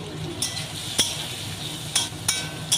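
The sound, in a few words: diced potatoes frying in hot mustard oil in a wok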